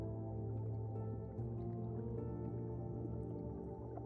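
Underwater water ambience in the city-builder game Life Below: a steady, soft gurgling and bubbling wash with occasional drip-like squishes, continuous and calm.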